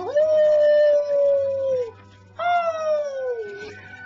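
A man imitating a wolf howl with his voice gives two long, wavering howls, loud and close, each sliding downward at the end with a short gap between them.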